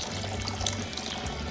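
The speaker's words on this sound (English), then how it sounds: "So what you do is just put it in the pan. Then you pour in" Water is poured into a pan holding sweet potatoes for boiling, a short, close, steady splashing pour heard alone without talk.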